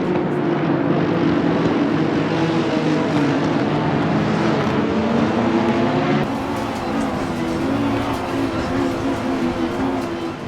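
Racing cars in a sim racing game surge off the grid at the start of the 12 Hours of Bathurst on the Mount Panorama circuit, a dense, loud, steady roar of many engines throughout with no talk.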